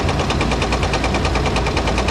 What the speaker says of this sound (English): Here is the culprit for our knocking noise. It ended up being a rod knock.